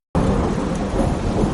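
Heavy jungle rain pours down in a dense, steady roar that starts abruptly and stays loud and unbroken, with a deep rumbling undertone and no voices.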